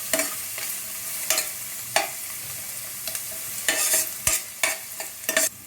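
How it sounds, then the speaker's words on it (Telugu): Cabbage Manchurian with spring onions is stir-fried in a pan: a low sizzle runs underneath while a spatula scrapes and tosses in repeated irregular strokes, close and fairly loud, with no talking. "కొన్ని స్ప్రింగ్ ఆనియన్స్ మిక్స్ చేసుకోవాలి."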